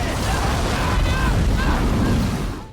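A film explosion turning a tornado into a fire tornado: a loud, sustained roaring blast of rumbling noise that holds for a couple of seconds before tailing off.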